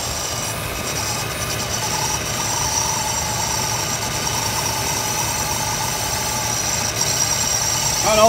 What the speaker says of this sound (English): I know that alternator sounds a little funny too. I think it's the alternator.